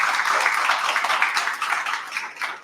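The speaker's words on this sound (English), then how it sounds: "Please give them a round of applause for hosting us." An audience at an evening company-hosted event on smallholder farming gives a dense round of applause that holds steady for a couple of seconds, then gradually thins and fades toward the end.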